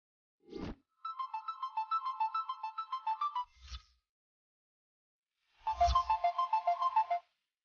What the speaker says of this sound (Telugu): కరెక్ట్ టైంకి మేడం ఫోన్ లిఫ్ట్ చేయటం లేదు.